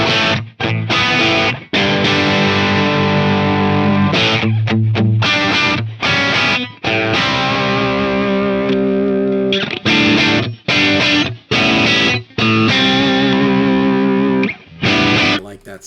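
Electric guitar with P90 pickups in the middle position, driven hard through a distorted amp, playing loud sustained chords and riffs with short breaks between phrases.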